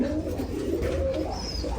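Rajshahi Giribaj pigeons coo in a low, continuous murmur, close by and fairly steady, with a faint bird chirp near the end.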